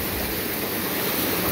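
Stream on a hiking trail flowing strongly, a steady broadband rush of water with no voices, close and loud.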